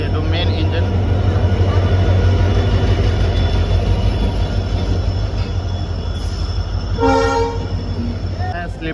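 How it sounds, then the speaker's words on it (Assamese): Express train 13182 from Silghat to Kolkata rolls into a station led by its main engine, a loud, heavy rumble of wheels and cars filling the scene, with a short horn blast near the end and a voice speaking over it. "ট্ৰেইন আহি পালে, এইটো মেইন ইঞ্জিন"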